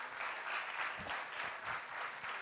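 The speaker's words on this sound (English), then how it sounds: "Can we hear a huge round of applause," An audience at a school annual day applauds children after a Bengali dance, a continuous, even wash of many hands clapping, fairly soft and distant, lasting a couple of seconds.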